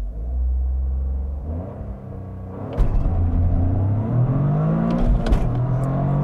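A 2023 Toyota GR Corolla Circuit Edition, a turbocharged all-wheel-drive hot hatch, launches from a 4,000 rpm clutch dump. The engine hums steadily, then after a brief dip surges into a loud, rising rev and keeps pulling hard, with no talk.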